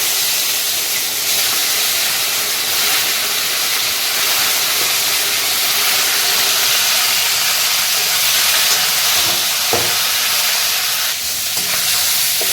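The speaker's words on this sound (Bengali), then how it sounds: "আমি এরপর ফুলকপিগুলো হালকা করে ভেজে নেবো" Cauliflower pieces fry lightly in a hot pan, a loud continuous crackling sizzle with hissing steam and occasional stirring, heard close and alone without speech.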